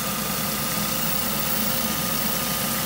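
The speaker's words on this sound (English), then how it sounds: "Sorry again about the noise of the engine, whether you'll be able to hear me or not." Ford ST150 engine idling close by during a thermostat replacement, a steady, loud, even mechanical hum with a slight knocking texture, continuous and unchanging with no talk over it.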